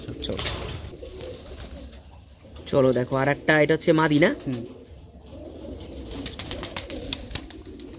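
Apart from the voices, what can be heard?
Madras pigeons cooing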